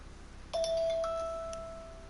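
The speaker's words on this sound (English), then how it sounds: "I'm getting a phone call. I don't know if you guys heard that or not." A phone's incoming-call tone sounds once, a clear electronic chime that starts sharply and then holds and fades over about a second and a half, heard alone against a quiet background hum.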